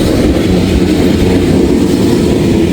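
A GMS locomotive hauling a loaded ethanol freight train around a curve in the rain produces a loud, steady, close rumble of engine and rolling wagons with no pauses.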